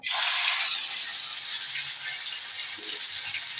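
Ground kalahaita plant paste dropped into hot oil sets off a loud hissing sizzle that starts sharply and then settles into a steady, bright fry, close up, with no talking.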